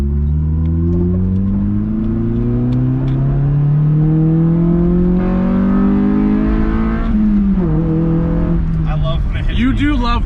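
A Honda Civic del Sol with a 1.6 VTEC engine revs loudly from inside the car, its pitch rising smoothly through the gears with a sharp climb near the end, while people talk over it.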